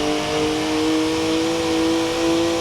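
BMW M1 in Forza Horizon 4 holds a steady, loud mid-pitched engine drone with a sustained tonal whine, revving evenly throughout without pauses.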